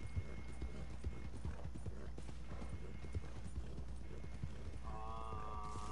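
Horse hooves clip-clopping in a PS4 video game, a steady rhythmic trot of hoofbeats under a faint game soundtrack, with a brief whinny-like tone near the end.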